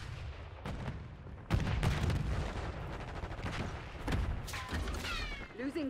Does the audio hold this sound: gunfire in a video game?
yes